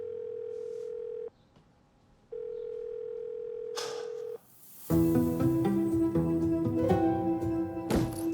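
A steady telephone dial tone hums in two stretches separated by a short silence, then gives way to louder, busier tones and clatter.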